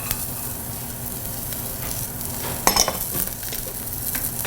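Minced garlic and half a large carrot go into a pan of frying onion, and a steady close sizzle with hiss runs throughout, broken once by a sharp utensil scrape and stirring.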